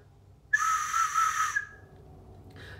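A slide whistle sounds one bright, fairly loud note that sits near a steady pitch with slight wavering for about a second, then cuts off, and a faint short toot follows near the end.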